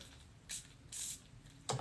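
Three short hissing bursts from a perfume atomizer spraying a hair and body mist, close and fairly soft, separated by brief pauses.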